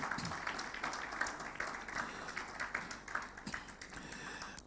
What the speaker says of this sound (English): Please, can we give NLNG a round of applause again?